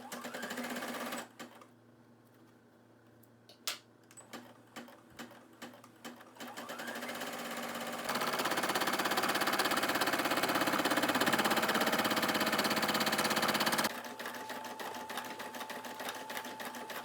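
A Brother SE1900 embroidery machine stitches a design onto a tote bag, with a fast steady mechanical chatter that shifts through quieter and louder running stretches, close and continuous with no talking.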